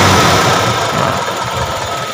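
A motorcycle engine with a modified radiator fan runs with a steady, dense mechanical roar and a whirring hum, loud and close, with no voices.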